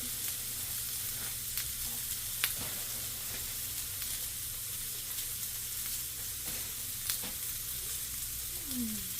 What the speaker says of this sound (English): A little bit of onion. Get that grilled up.